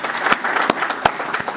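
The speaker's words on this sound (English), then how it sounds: "Let's have a big round of applause." A panel audience at a crowdfunding and tech event gives brief, fairly dense applause, with a few sharp individual claps standing out.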